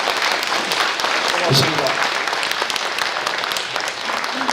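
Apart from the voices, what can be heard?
applause at press conference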